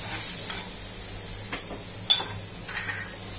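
Green sorrel stems are sautéed in a pan, a soft hiss under a few light stirring taps and scrapes of a spoon, close and quiet, without speech.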